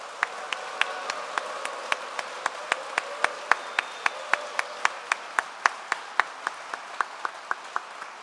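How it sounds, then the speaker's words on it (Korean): An audience at a provincial marine-industry strategy event with President Moon Jae-in claps in slow, even unison. About thirty distinct claps follow one another at a steady rhythm over a soft background hum. "따뜻하면서 열렬한 박수 함성을 한번 부탁드릴까요?"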